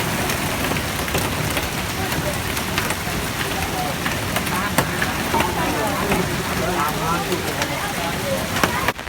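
Hailstorm with hard ice stones falling thickly, a dense, continuous clatter and patter of sharp hits on surfaces for the whole stretch, loud and close.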